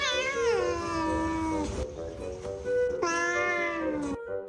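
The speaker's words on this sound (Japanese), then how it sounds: "ふざける飼い主ににゃんこも黙ってはいません" A house cat reacts to its owner playing with a toy sword, giving two loud, drawn-out meows close by, the first long and falling, the second rising after a short pause.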